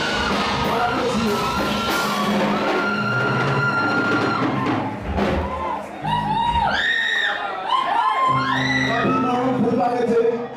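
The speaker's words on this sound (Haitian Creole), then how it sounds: "This week, on applaudit, please." A concert audience at a Praise Worship Ministries show featuring a saxophonist, roaring with sustained shouts and cheers, with high rising whoops and whistles breaking out over the loud crowd in the second half.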